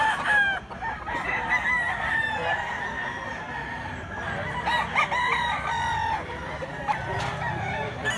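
Rooster crowing at a rural Cebu poultry market with yellow- and white-legged birds, several repeated crows ringing out over a steady background of other fowl and faint crowd murmur.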